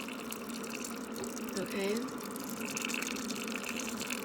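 Water runs steadily into a cooking pot for noodles, a soft continuous pour and gurgle heard at moderate volume beneath a person talking.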